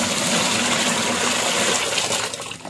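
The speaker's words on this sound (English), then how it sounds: "At first, you add water to an empty bottle." Water gushes steadily into an empty bottle as the first step of making emulsion paint, a loud, continuous pouring rush that thins slightly toward the end.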